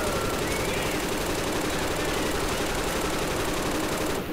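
Rapid continuous video game gunfire, a dense unbroken burst of loud shots filling the whole stretch and cutting off abruptly at the end.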